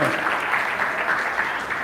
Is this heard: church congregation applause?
yes